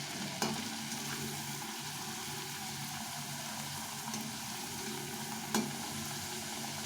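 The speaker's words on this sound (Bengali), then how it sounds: "তো দেখো কত সুন্দর করে ভাজাটা হচ্ছে।" Pea kachori deep-frying in hot oil, an even continuous bubbling sizzle nearby, broken by a couple of faint clicks or taps.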